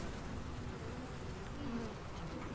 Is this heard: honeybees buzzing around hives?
yes